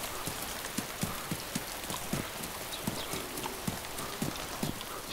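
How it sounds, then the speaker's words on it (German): Footsteps in the video game DayZ Standalone crunch in a steady rhythm during rainy weather, with regular thuds spread over a constant hiss of rain. "Ich höre Schritte."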